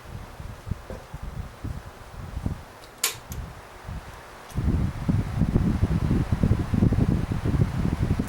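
WeatherWorks and Windmere electric fans blowing side by side, a soft rushing wind noise with fluttering gusts, growing louder and steadier partway through, close to the microphone.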